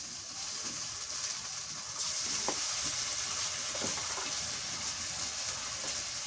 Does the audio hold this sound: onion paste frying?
yes